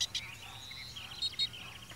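Goldfinches give a few faint, high chirps near garden sunflowers, with two brief clusters of calls rising over a low background hum.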